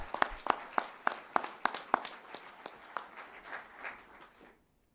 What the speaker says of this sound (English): please join me in giving that team a round of applause for their accomplishments